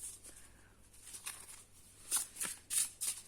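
Oracle cards handled and shuffled, soft papery flicks and riffles that grow into a few sharper bursts toward the end, close and quiet with no talking.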